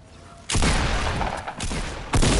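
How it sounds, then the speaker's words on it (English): Bursts of video game gunfire, heavy and close, one sustained burst of shots followed by a second burst starting near the end, with no voices. "Are you getting shot at by that dude?"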